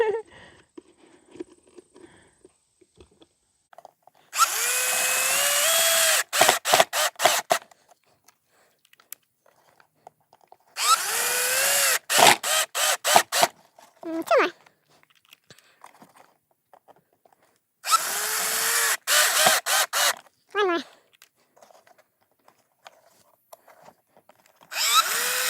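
Power drill driving screws into a birdhouse built from upcycled materials: three loud whirring bursts, each several seconds long, with pitch rising then settling, separated by quiet pauses and light handling clicks, no talking.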